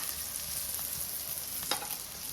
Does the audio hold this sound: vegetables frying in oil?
yes